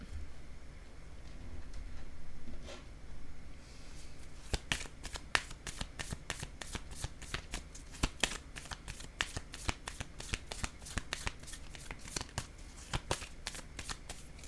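Tarot cards being handled, shuffled and laid down, first a soft rustle, then a long run of crisp, closely spaced card slaps and flicks in quick rhythm, close up with no speech.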